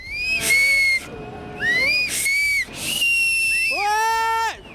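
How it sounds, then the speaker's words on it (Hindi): Loud, shrill whistling tones rise in three sustained bursts with brief gaps, the last one bending and sliding in pitch, said to come from the ground at Dharali just before a cloudburst flood swept through. "धराली की धरती से सीटियों की आवाज आनी शुरू हो गई थी"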